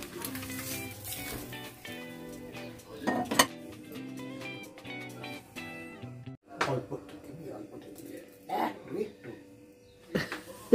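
Leftover dinner stirred in a pot with metal utensils: a close, steady run of clinks and scrapes, with sharper knocks now and then, and people talking over it.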